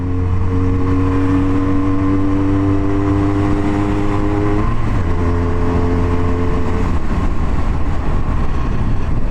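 A Regal Raptor Pilder 125 motorcycle engine with a knocking fault drones loud and close, its pitch dipping midway as the throttle is cut and then reopened, with no talk.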